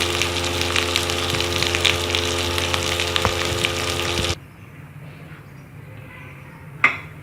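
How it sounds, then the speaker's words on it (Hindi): Potato fritters (aloo bade) frying in oil over a medium flame, a steady dense sizzle that cuts off abruptly partway through, leaving quiet room tone and a single clink. "आप इसमें इसको अच्छी तरह से मीडियम फ्लेम पर इसको फ्राई करें"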